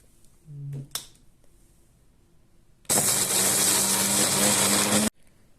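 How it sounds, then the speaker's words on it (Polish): A kitchen blender whirs loudly and steadily for about two seconds as it blends toasted coconut, garlic, cumin and chili, then stops abruptly, after a few small clicks and knocks as the lid goes on. "Zamykamy blender"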